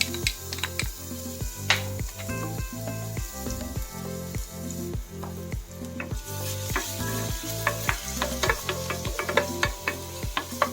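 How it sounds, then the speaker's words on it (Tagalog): Garlic sizzles in hot oil for spicy chicken pastil, a steady close crackle and hiss with scattered pops and faint stirring clatter, no talking. "kapag mainit na, pwede na natin ilagay yung ating bawang"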